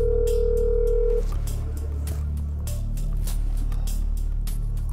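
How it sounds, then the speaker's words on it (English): Telephone dialing on an office phone: a steady dial tone is followed by a rapid series of short keypad tones and clicks over a low hum. "I'm gonna get on the phone and I'm gonna dial."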